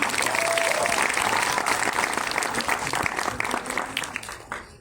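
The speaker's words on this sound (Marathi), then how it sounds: "त्यामुळे पुण्याला जोरदार टाळ्या." An audience at a film song launch event in Pune breaks into loud, dense applause that holds steady for several seconds, then thins and fades out near the end.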